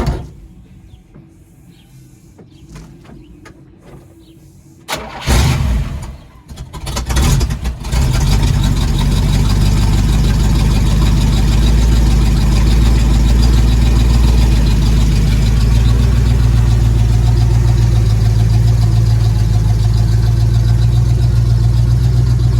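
A 1983 Camaro Autoform Edition found stored in a basement cranks and fires up, revs briefly, then settles into a loud, steady close idle that runs on alone.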